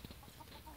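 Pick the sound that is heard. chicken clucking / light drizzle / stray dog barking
chicken clucking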